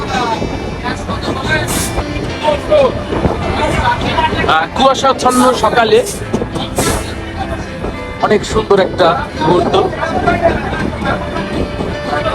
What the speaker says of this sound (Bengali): এই রুটে বাস্তব অভিজ্ঞতা নিতে কিন্তু আমরা ছুটে চলেছি জাহানাবাদ এক্সপ্রেস ট্রেনে করে, গন্তব্য ঢাকা।